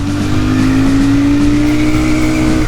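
A Royal Enfield Super Meteor 650 motorcycle accelerates hard in first gear, its engine note loud, close and continuous with a steady rising drone throughout and no talk.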